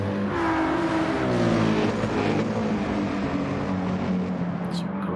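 GT3 race cars run flat out down the Monza back straight toward Parabolica in a sim-racing league, engines droning with rising harmonic pitch under steady noise, a sustained drive-by roar.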